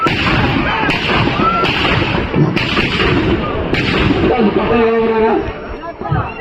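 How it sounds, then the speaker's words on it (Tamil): Firecrackers burst in a rapid, irregular string of loud cracks at a rural bull-running festival, heard over constant crowd chatter and shouting close by. "கருப்பு நல்லா பட்டாசு வச்சிட்டாங்கப்பா"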